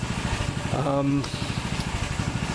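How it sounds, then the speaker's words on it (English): A water-seized 6.5 HP Honda clone gasoline engine, now revived, idles with a steady, rapid chugging pulse close by, while a voice speaks briefly over it. "you guys could see it's sitting there idling away"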